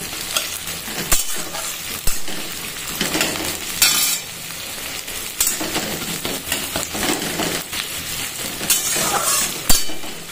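Potatoes and chopped onion frying with spices in a pan, stirred continuously: a constant close sizzle broken by scraping strokes and occasional metallic clinks of the utensil against the pan.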